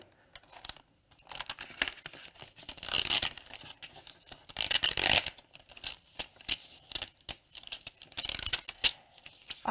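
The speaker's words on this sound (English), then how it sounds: "I feel like I could be on one of those ASMR videos just peeling Infusible ink all day." Infusible Ink transfer sheet peeled away from its backing during a Cricut project, giving close crinkling and tearing rips in bursts, with a few louder swells between quieter handling.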